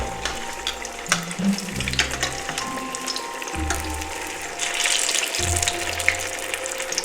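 Zucchini slices frying in hot oil, a steady crackling sizzle with scattered pops and occasional clinks and scrapes of a utensil turning the pieces in the pan.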